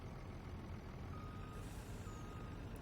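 A dump truck backing up on a driveway paving job gives steady, faint repeating reversing beeps under a low rumbling engine and diesel drone.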